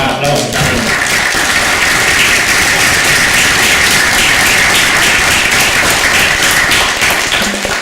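Audience at a round-table session of a congress applauds steadily in a large room, a dense wash of clapping that sustains at full volume throughout with no voices over it.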